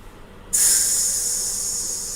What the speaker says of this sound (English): These things are going to be sizzling in no time.